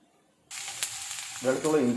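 Garlic and ginger hit hot oil in a pan while cooking a spicy fish curry, an abrupt loud sizzle that holds steady and swells as stirring begins.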